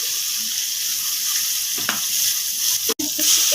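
Dried chilli, whole cumin and tomato sizzle steadily in hot oil in a wok, a loud, continuous crackling fry up close with a brief clatter near the end.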